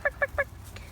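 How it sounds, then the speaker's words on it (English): A chicken clucks three times in quick succession up close, loud short calls over faint background rumble, followed by quiet. "Hello, cheeky chicken."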